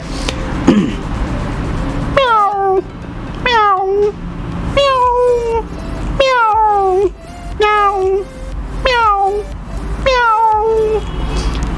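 A man, a rickshaw driver in Lahore, imitates cats with a run of about nine drawn-out, wavering meows and yowls, loud and close, spaced regularly one after another, with a little talk at the start.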